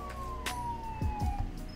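A police car siren in a Roblox roleplay game wails steadily through the whole short stretch, with a few low thumps and game sounds beneath it.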